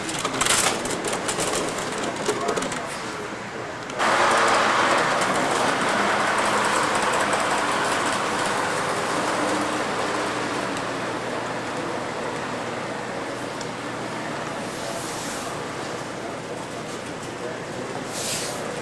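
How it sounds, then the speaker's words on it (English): A train passes by outdoors near trees, producing a steady rumbling, rushing wash of wheel and rail noise that swells and then holds at moderate distance, with faint birdsong and occasional voices nearby. "We got a train over here."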